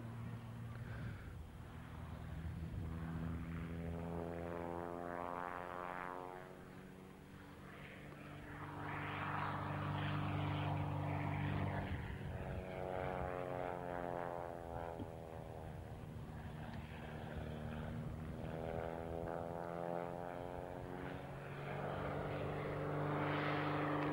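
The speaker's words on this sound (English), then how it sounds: "Stable aircraft at low speeds." A propeller-driven agricultural aircraft flies past at an ag-aviation reunion, its engine drone rising and falling with sweeping pitch shifts as it passes, fairly distant and steady, with faint voices at times.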